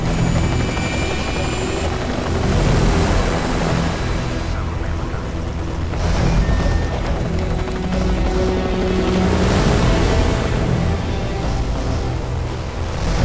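Helicopters in the Metal Gear Solid 4 video game thrum loudly and continuously, a dense rotor roar with engine drone and a wash like surf running throughout, with no voices.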